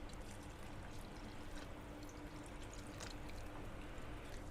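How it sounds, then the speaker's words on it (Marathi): Water poured into a pan of Aagri-style chicken curry, a faint steady trickle and splash running throughout with no talk over it. "अजून थोडं पाणी ॲड करूयात."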